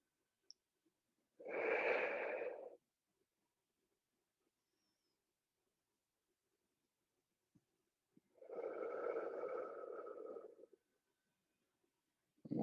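Slow rhythmic breathing during a guided exercise, two long audible breaths about six seconds apart with near silence between them, close and soft, and a third breath just beginning at the end.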